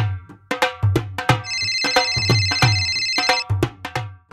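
A phone ringtone plays loudly and close, a bright melodic jingle of rapid plucked notes with a sustained chiming stretch in the middle and no talk over it.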